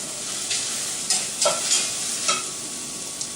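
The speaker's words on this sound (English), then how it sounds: "When I caramelize onions, I start them off fairly high like this" Sweet onions sizzling and caramelizing in a hot pan, a loud steady hiss broken by several sharp crackling bursts as they are stirred, close and without talk.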